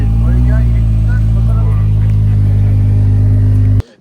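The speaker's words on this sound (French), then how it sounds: "Petite Ferrari de 96 qui vient de spawn là." A 1996 Ferrari in a video game, its engine holding a loud, steady high-revving drone with shifting tones before cutting off abruptly near the end.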